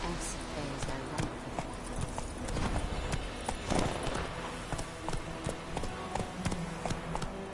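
Hooves of Roach, the horse in The Witcher 3, clopping steadily and rhythmically on the ground, close and continuous, with game music and a voice talking over the top.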